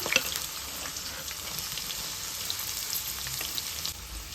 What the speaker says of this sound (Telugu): సన్నగా కట్ చేసుకున్న చిన్న ఉల్లిపాయలు వేసుకోవాలి